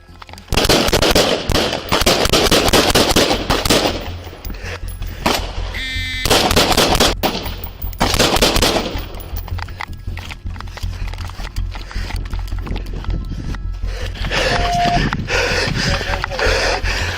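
Rapid loud bursts of gunfire from a service rifle during an ambush on officers crackle in dense clusters, broken by pauses, with shouting voices and a shrill tone mixed in.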